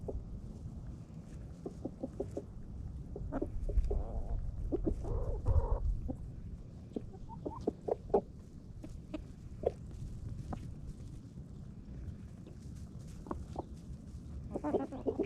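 Chickens in a backyard flock at feeding time give soft, scattered clucks and short calls over a steady low rumble, some louder bursts standing out around the middle, with no talk.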